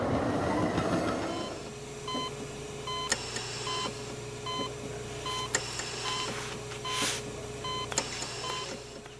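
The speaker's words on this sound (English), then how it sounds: "Merrick, the tram!" Tram rolling along rails, a steady rumbling drone with a loud burst at the start, rhythmic beeping tones and sharp metallic clicks and squeals throughout.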